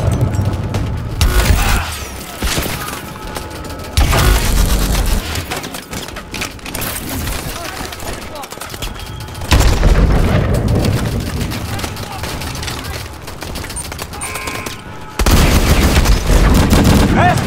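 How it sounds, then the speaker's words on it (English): Launcher fire and explosions in Call of Duty: Advanced Warfare during a battle against a Titan: loud, dense bursts of booming blasts and rattling gunfire surge and fade in waves, with a voice mixed in. "Mitchell, grab that launcher and take down that Titan."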